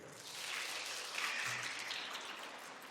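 Concert audience at a youth symphony orchestra show applauding for the piccolo, a light, distant smattering of claps that holds steady for a few seconds.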